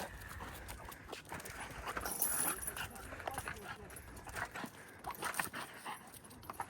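A dog plays and play-boxes with a person on an outdoor playground, giving steady panting, scuffling and brief whimpers with shuffling movement throughout, while voices sound in the background.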